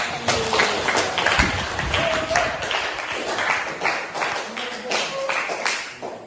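Students in a high school classroom clap together after a lesson on folk tales, a loose wash of hand claps running steadily throughout at moderate level, with voices mixed in.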